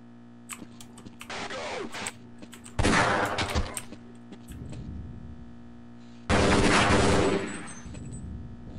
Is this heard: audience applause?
no